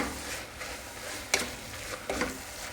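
Mutton curry masala is stirred in a pan, giving a steady low sizzle broken by a few sharp scraping strokes of the spoon, heard close with no talk.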